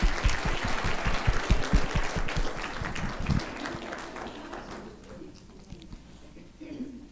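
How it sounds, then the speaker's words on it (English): Applause for teachers at a graduation ceremony, a dense patter of clapping from a gathered audience that gradually thins and fades toward the end. "Let's give a round of applause to all the teachers."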